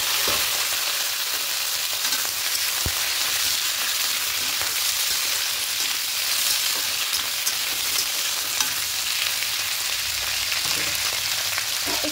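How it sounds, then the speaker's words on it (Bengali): Okra and potato pieces frying in hot oil with bay leaves and fennel, a steady, dense, close sizzle that holds evenly throughout, with faint scrapes and no voices. "এবার এখানে ঢ্যাঁড়স আর আলুটা দিয়ে দেবো।"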